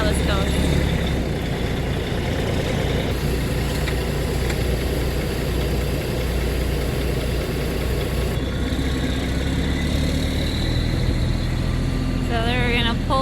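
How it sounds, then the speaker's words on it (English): A tractor fitted with a boom runs steadily at a construction site, its engine a constant low drone throughout, with some mid-range clatter and voices talking over it near the end. "We're gonna be using the tractor with the boom."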